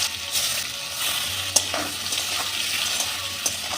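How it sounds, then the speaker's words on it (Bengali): Prawns marinated with salt, turmeric and chilli sizzle steadily in hot oil with dry chillies, cumin and a bay leaf, a continuous close hiss broken by a few sharp pops and spatters. "এবার নুন, হলুদ, লঙ্কা দিয়ে মেখে রাখা মাছ আমি একটু ভেজে নেব"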